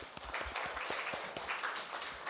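A classroom of students gives a short round of applause for a classmate, with quick, uneven hand claps that sound close and lively throughout.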